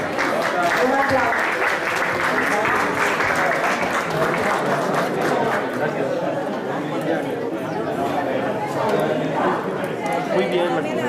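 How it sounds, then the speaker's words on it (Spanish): An audience at a Costa Rican university lecture breaks into loud, sustained applause, with chatter and voices mixed throughout the dense clapping. "Un aplauso."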